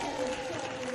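A crowd at a wheelchair basketball game applauds after a made shot, a brief burst of clapping and cheering in an indoor arena, under a commentator's voice.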